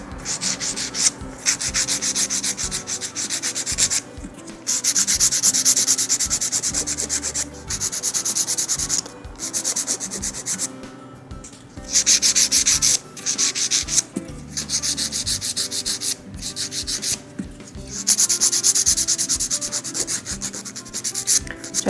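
Steady back-and-forth filing of acrylic nails while shaping the edges, a close, dry rasping scrape in rhythmic bursts with short pauses between strokes, heard alone without talk.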